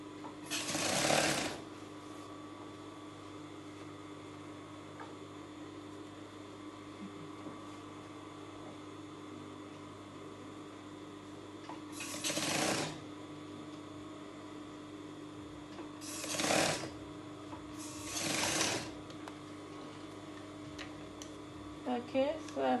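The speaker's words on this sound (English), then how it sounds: "Okay, so I've stitched it to the end, as you can see." Short bursts of a sewing machine stitching a dress seam break a long, quiet stretch of room hum, with one early run and then three brief runs near the end.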